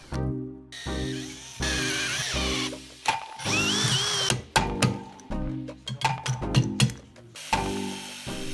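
A cheap, poor-quality jigsaw cuts a slot for a drive belt on a homemade CNC plasma cutter frame, its motor whining loudly in repeated start-stop bursts with short pauses between cuts.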